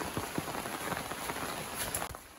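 Rain falls steadily in a village, a dense, close patter of drops striking surfaces that carries on without a break.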